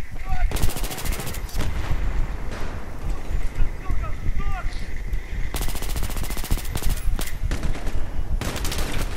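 LMG fire rattles in Battlefield 3, loud sustained bursts of rapid automatic gunfire with short gaps between them and other shots and game noise throughout.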